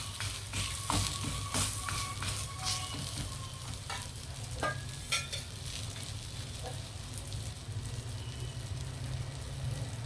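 Chicken parota sizzles and crackles steadily on a hot pan for the whole stretch, with occasional louder scrapes and clicks as it is loosened and turned over; close, continuous frying with no voices.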